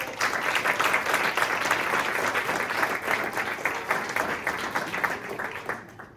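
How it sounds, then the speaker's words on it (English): An audience at a storytelling event applauds a speaker, with steady, full clapping for about six seconds that stops abruptly at the end. "Big round of applause for David."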